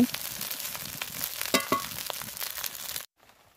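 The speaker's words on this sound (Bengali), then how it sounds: "লবণ দিয়েও ভালো করে একটু নেড়ে চেড়ে ভেজে নেব।" Salt being stirred into food frying in a pan for Chinese fried rice: steady crackling sizzle with scraping stir strokes, then abrupt near-silence at the end.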